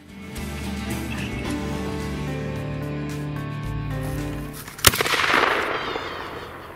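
A single sharp hunting gunshot during a winter hare hunt cracks out near the end of a steady outdoor background hum, followed by a brief rush of echoing noise.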